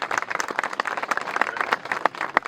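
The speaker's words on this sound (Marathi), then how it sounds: "त्यांना परत एकदा आपण टाळ्या वाजवल्या पाहिजे" An audience at a youth rally for a Shiv Urja Yatra in Kopargaon claps steadily, a dense, close patter of many hands for a couple of seconds with no voices over it.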